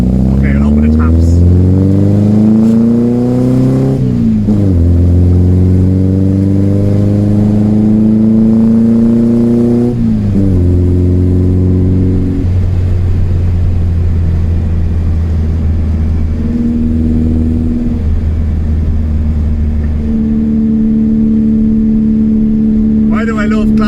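A 1974 VW Beetle's air-cooled engine (54 horsepower when new) pulls hard on a road test, loud and close, its pitch climbing through several gears with clear drops at each shift before settling into a steady cruise.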